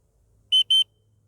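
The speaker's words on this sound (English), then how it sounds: "I'm trying out a different whistle." A dog training whistle is blown twice in a garden, two short, shrill, piercing toots in quick succession over a faint low background hum.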